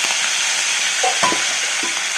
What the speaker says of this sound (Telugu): కరివేపాకు వేస్తున్నానండి